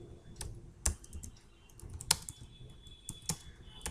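Keys tapped on a computer keyboard in a quiet office, a few sharp separated clicks at an irregular, unhurried pace, close and clear with faint background hum.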